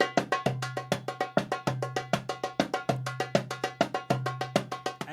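An Arabic hand drum plays a decorated Egyptian rhythm, with resonant low doum strokes woven through dense runs of crisp tek and ka slaps, heard close, steady and busy.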